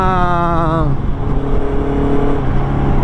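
A motorcycle riding through dense Metro Manila traffic revs up rapidly and then settles into a steady drone, with loud, close road noise around it and someone talking over it.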